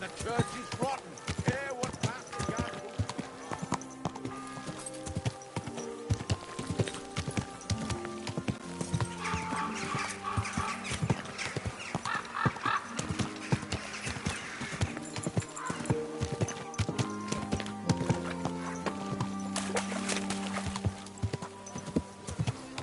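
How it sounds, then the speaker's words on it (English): A horse's hooves clip-clop steadily at a walk across a hard surface throughout, with occasional whinnies and a voice speaking nearby over the steps. "Easy, good horse."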